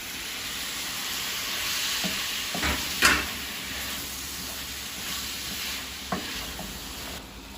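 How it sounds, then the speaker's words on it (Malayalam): Tomatoes sizzle and crackle in a hot pan while a pearl spot fish molee is cooked, a steady frying hiss with a few louder pops and stirring scrapes. No voice. "നമുക്കിതിലോട്ട് തക്കാളി ഇട്ട് കൊടുക്കാം"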